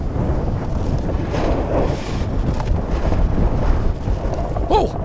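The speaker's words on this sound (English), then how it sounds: "That wind is serious" Strong wind gusting across a snowy mountain at Mammoth during snowboarding, loud steady rumbling buffeting of a body-worn mic with no clear pauses.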